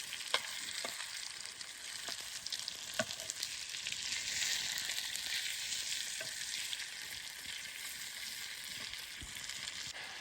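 Spices sautéing in a pan make a soft, continuous hiss with light sputtering pops and occasional stirring clicks, fairly quiet, with no talking.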